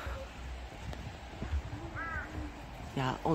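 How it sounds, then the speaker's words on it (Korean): Crows cawing in a snowy cedar forest on Jeju, with short harsh calls standing out toward the end over a steady low background hiss and faint movement sounds. "까마귀 소리."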